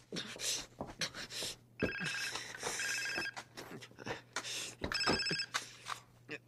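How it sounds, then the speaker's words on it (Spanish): A telephone rings indoors in two loud, close bursts of electronic trilling, with brief rustling and movement between the rings. "Ay, mi teléfono."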